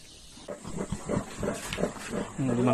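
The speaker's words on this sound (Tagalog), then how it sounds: "Limang baboy." Pigs on a farm, five being sold for farm use, give a run of rough, rhythmic grunts close by over a steady background hiss.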